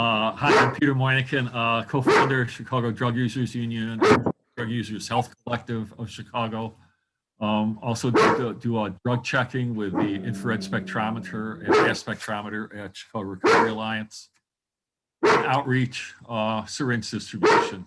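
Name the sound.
dog barking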